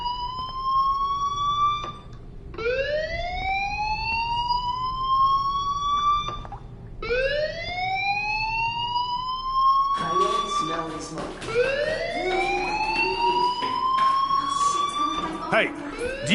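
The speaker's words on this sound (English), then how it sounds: "do you hear that fire alarm? That means you should be outside." A school fire alarm in the video game Life is Strange wails in repeated rising whoops, each sweep climbing in pitch about every few seconds, loud and insistent, with a denser layered tone near the end.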